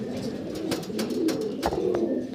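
Fancy pigeons coo in soft overlapping throaty rolls, close by and continuous, with faint clicks and shuffling among them.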